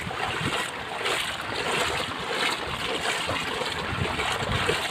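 Floodwater rushing along a flooded street, a steady broadband wash of flowing water with no break, loud and close throughout.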